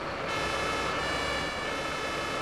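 A wailing emergency vehicle siren from the firefighting game Emergency Call 112 sounds loud and continuous, rising and falling steadily with no talk over it.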